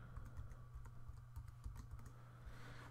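Quick, light clicks of a password being typed on a computer keyboard, an irregular patter of keystrokes over a low steady hum, close and fairly quiet with no voices.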